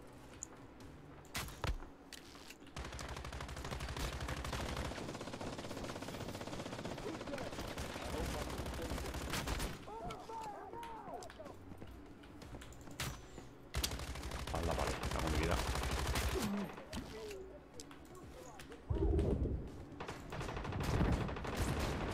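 Machine gun fire in the survival shooter Once Human comes as long, dense bursts of rapid shots with brief pauses between them, and a voice is heard for a moment partway through.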